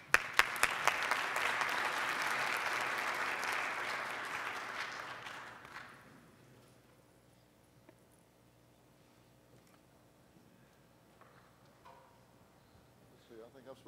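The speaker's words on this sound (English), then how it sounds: "Big round of applause." Conference attendees at a digital health summit at CES 2015 applaud speakers taking the stage, a loud burst of crowd clapping lasting about six seconds and then cutting off to near silence with faint room noise.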